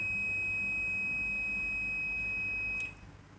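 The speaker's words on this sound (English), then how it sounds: "Can you hear the beep from my meter?" A multimeter's continuity beep, a continuous high-pitched electronic tone, holds steady, then cuts off near the end, leaving a low background hum.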